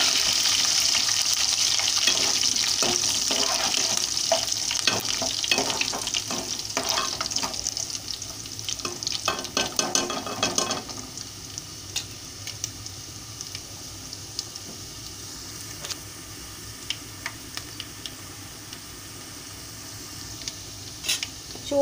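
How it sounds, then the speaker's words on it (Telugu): Curry leaves sizzling and frying in hot oil for a homemade tomato pickle tempering, loud crackling sizzle with stirring, strongest early then settling into a softer steady fry. "ఇంకా కరివేపాకు వేస్తున్నానండి. ఇదిగోండి కరివేపాకు. కొంచెం వేగాలి."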